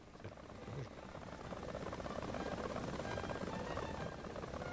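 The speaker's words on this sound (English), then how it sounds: "It's a beautiful looking helicopter, really nice." A helicopter's rotor and engine in the War Thunder video game make a steady, dense broadband drone that swells slightly after the first second and holds, with voices talking faintly over it.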